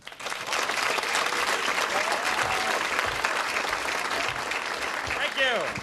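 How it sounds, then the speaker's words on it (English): Sustained audience applause fills a comedy club in Austin, a dense, steady clapping crowd with scattered cheers, continuing for several seconds. "Keep a nice applause going for Louie, ladies and gentlemen."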